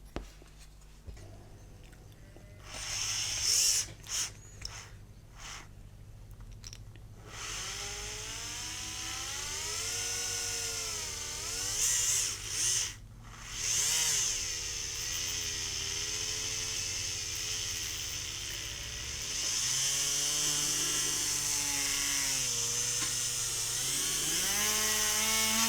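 A small power drill bores out parts on a 1/200 plastic model kit of the battleship Bismarck, whirring in bursts that rise and fall in pitch, close and fairly loud, with pauses between runs.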